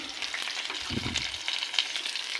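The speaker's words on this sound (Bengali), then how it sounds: "এবার পুঁই শাকের বড়াগুলো ভাজবো" Fritters crackle and sizzle in hot oil with a continuous fine hiss and scattered pops, fairly quiet and close, and no voices.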